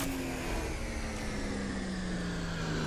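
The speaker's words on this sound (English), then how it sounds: "Why does this beam sound like revving up a chainsaw?" A beam weapon in a Halo video game produces a continuous buzzing drone with a steady pitch that slowly sinks, resembling a revving chainsaw, heard alone without talk.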